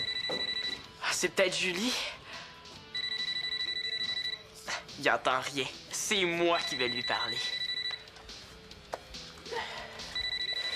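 A telephone rings in repeated bursts of bright electronic trills with gaps between them, loud and close, while people talk in French between and over the rings.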